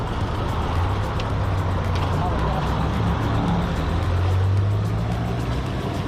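A Tohatsu 15 HP outboard engine on a 12-foot aluminium boat runs at its lowest throttle, a steady low droning hum throughout with a voice talking over it.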